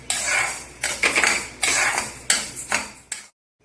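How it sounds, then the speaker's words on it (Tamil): Parboiled rice being dry-roasted in a pan, stirred in bursts of scraping and clattering against the metal, each stroke lasting under a second with brief pauses between, close and clear with no talk. "புழுங்கலரிசியை நல்லா வாசனை வரும்படி கொஞ்சம் சேப்பாக வறுத்துக்கணும்."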